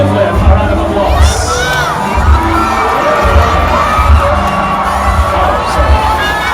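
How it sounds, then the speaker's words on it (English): A pageant crowd at the Mr. and Miss PUP coronation night cheers and shouts, loud and continuous, with a rhythmic low thumping of music or stomping beneath the excited voices. "Let us all give them a round of applause."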